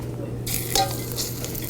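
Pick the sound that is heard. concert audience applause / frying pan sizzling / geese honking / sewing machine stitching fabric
frying pan sizzling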